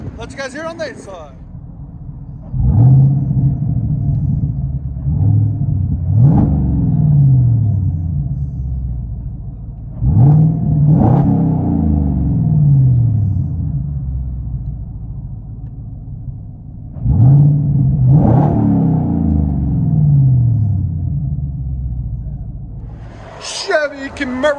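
From inside the cabin, a 2018 Camaro SS 6.2-liter V8 with X-pipe and high-flow exhaust rumbles at idle and is revved in three strong bursts, deep and booming, each sweep climbing then dropping back, with voices heard briefly.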